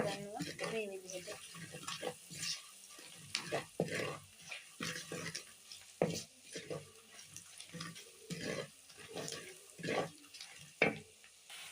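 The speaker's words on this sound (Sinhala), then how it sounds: "එකතු කරගත්ත සුදු ලුණු කරපින්ට හොඳින් තෙලේ කලවම් කරගන්නවා මේ විදිහට." Garlic and curry leaves are stirred in hot oil, giving a light sizzle broken by irregular scraping and clinking strokes, while a voice talks intermittently over the cooking.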